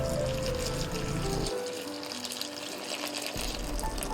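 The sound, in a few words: pouring water into flour and yeast batter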